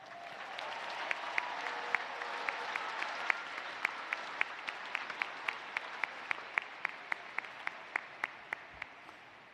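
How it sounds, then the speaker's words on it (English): A commencement crowd at Florida State University applauds the ceremony organizers with sustained, even clapping, while one nearby pair of hands claps in a slow, regular rhythm above the wash. "Please give them a round of applause."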